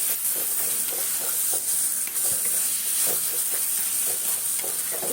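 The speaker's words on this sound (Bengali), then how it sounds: "এইভাবে নাড়তে হবে" Potol bharta, a mashed pointed gourd dish with coriander leaves, is stirred in a hot pan, giving a loud, continuous sizzle with rhythmic scraping strokes close up.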